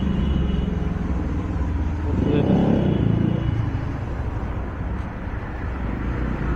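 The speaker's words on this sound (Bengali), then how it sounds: "দেখেন মোটর সাইকেল, মানুষ বিভিন্ন জায়গায় ঘুরতেছে" Road traffic with motorcycles passing near Kapasia Government High School: a steady engine rumble swells as a vehicle goes by mid-way, then settles back into a continuous low drone.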